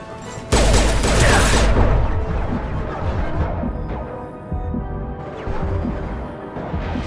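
Heavy, sustained gunfire from the video game Mass Effect 2, a loud burst of rapid overlapping shots erupting suddenly, then continuing as dense battle noise with more scattered blasts.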